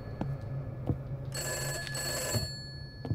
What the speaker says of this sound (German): irgendwo läutet ein Telefon.